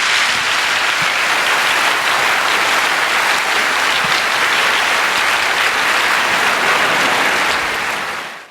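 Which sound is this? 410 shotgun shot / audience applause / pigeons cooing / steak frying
audience applause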